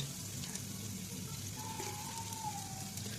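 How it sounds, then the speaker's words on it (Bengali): Chopped onions fry in hot oil for a beef handi curry, giving a steady, even sizzle with a faint rain-like crackle throughout and no talking. "এই যে তেলটা প্রায় গরম হয়ে গেছে এরপরে দিয়ে দেবো যে পেঁয়াজ কুচিগুলো ছিল"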